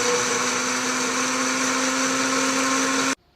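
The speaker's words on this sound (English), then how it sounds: "Then into a blender with some water, just a little bit." A kitchen blender whirs loudly and steadily as it purees raw testicles with a little water, running continuously for about three seconds before cutting off abruptly.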